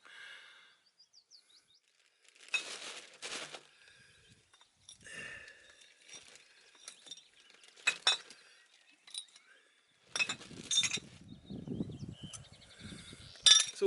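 Broken glass is picked up at an outdoor campsite: scattered, sharp clinks and rattling handfuls of shards, with quiet gaps and birds chirping faintly in the background.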